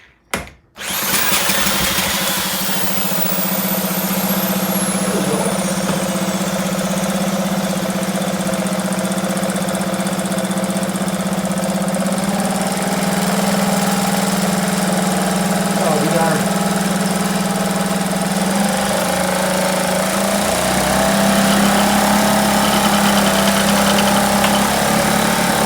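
A 1971 Johnson Mate 2 hp outboard motor pulls over and catches within the first second, then runs on at a steady, loud drone with a slight change in pitch near the end, as if about to stall.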